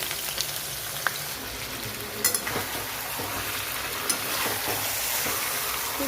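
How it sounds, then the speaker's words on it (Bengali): Onions sizzle and crackle in white oil in a wok, a steady close frying hiss with occasional stirring scrapes and no voices. "কড়াইতে সাদা তেল দিয়েছি পেঁয়াজ ভাজার জন্য তো এখানে আমি পেঁয়াজটা ভেজে দিচ্ছি"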